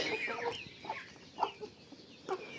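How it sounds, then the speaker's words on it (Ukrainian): A broody hen clucks softly in a few scattered, low calls, quiet and close against faint background noise. "Не квокчи, не квокчи, бо ти мені не потрібна квочкою"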